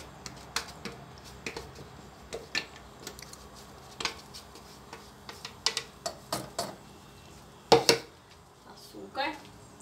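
Scattered clinks and taps of Brazil nuts, sugar and water dropping into a metal pot, irregular and close, with a louder clatter near the end.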